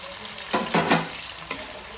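Green chilies drop into a hot pan of frying onions and tomatoes for a Godavari-style fish curry, giving a few short bursts of sizzling close by, with quieter frying between them.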